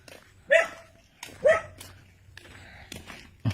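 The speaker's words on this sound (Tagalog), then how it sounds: "maingay ka nga, aso ka." A dog barks twice in sharp, loud bursts about a second apart, followed by softer yips and rustling outdoors on a farm.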